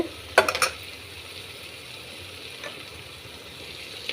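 Ground spices including pepper and coriander powder fry in a pan for a cough and cold drink, a soft steady sizzle with a quick cluster of spoon scrapes and clinks near the start.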